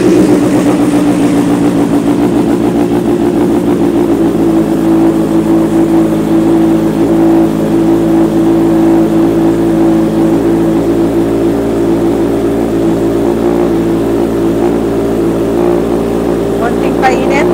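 A 2023 Kawasaki H2 supercharged motorcycle engine runs steadily at a loud, close idle with a constant low rumble and no words spoken over it.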